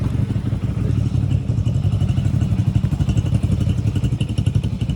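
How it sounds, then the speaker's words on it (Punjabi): Several motorcycles idle and warm up together after being started, a steady close engine rumble with clatter and occasional thuds that runs continuously and loud throughout. "ਆਪਾਂ ਆਪਣੀਆਂ ਮੋਟਰਸਾਈਕਲਾਂ ਕਰ ਲਈਆਂ ਸਟਾਰਟ ਗਰਮ ਹੁੰਦੀਆਂ ਨੇ ਮੋਟਰਸਾਈਕਲਾਂ"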